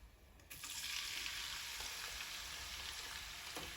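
Two large onions dropped into hot oil with whole garam masala spices, a sudden surge of steady close sizzling that continues evenly with faint stirring.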